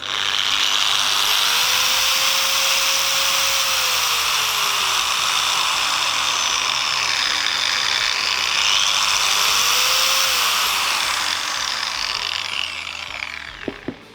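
A Procraft PW1200ES 125 mm angle grinder runs continuously with a loud high-pitched whine, its pitch briefly dipping and recovering twice before it winds down.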